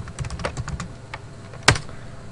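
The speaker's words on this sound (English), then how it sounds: "what we do is to type in" Keys tapping on a computer keyboard while commands are entered for Windows Logo programming, a quiet burst of light clicks with one sharper keystroke near the end.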